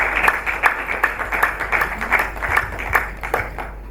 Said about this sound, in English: A round of applause to encourage her.